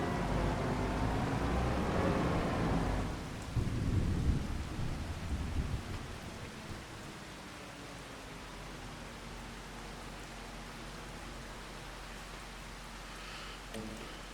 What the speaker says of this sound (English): let's have a look, see how long this rain's in for